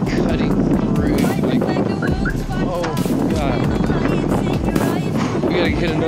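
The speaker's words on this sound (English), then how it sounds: "The wind is like cutting through." Cold wind buffets the microphone outdoors in steady, loud gusts and rumbles throughout, with some voices and movement mixed in.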